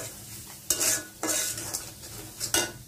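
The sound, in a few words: stirring chicken curry spices in a pan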